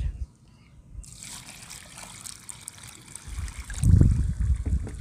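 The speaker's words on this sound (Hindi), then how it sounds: "चलो भाई इसमें पानी डाल देते हैं" Water is poured into a bucket, starting as a thin, soft trickle and swelling into a heavier, splashing gush near the end, close by and with no voices over it.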